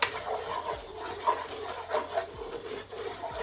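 Flour being stirred into melted butter in a pan for turkey wing gravy, giving a steady scraping, rubbing sound with a few louder strokes, close and alone with no talking.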